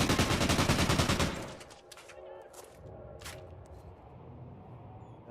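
A dense burst of rapid gunfire from a competitive esports video game match rattles for about a second, then gives way to scattered, fainter shots and game sounds.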